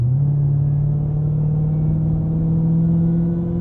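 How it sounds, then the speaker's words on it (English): A supercharged Hemi V8 in a Dodge Challenger SRT Jailbreak drones loudly and steadily from inside the cabin, a deep engine rumble that climbs gently in pitch as it revs, with no voices over it. "it's kind of hard to not overwhelm the supercharger whine with the Hemi V8 Thunder"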